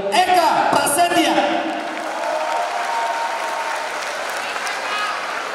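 Applause from an audience at a school prom night as a sponsor representative is called forward, loud clapping and crowd noise at first, then continuing steadily at a slightly lower level with a voice over it.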